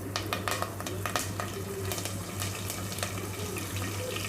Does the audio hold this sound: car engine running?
no